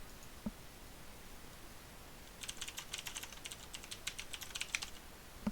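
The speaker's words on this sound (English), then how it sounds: "type this information in." Quiet typing on a computer keyboard while entering text into a web page in Dreamweaver: a faint run of quick, uneven keystrokes starts partway through and continues for a few seconds over low background hiss.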